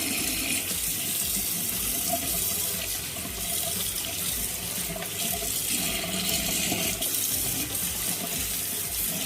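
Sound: tap water running to rinse Daikin air purifier filter

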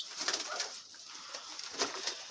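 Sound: pigeons cooing in a coop

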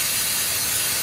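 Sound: spraying mass airflow sensor cleaner on GMC Sierra

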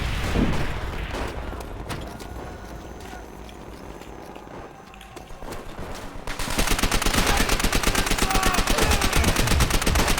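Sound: machine gun fire in video game Call of Duty WWI

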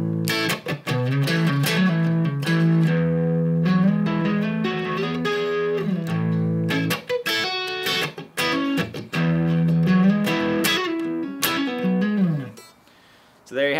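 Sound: Nash Stratocaster-style custom electric guitar playing

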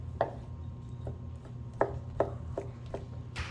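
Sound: knife chopping pork coarsely

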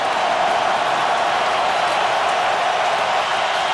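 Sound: football stadium crowd cheering, Saints playoff game

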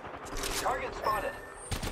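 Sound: gunfire in Apex Legends video game

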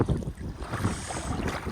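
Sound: wind blowing

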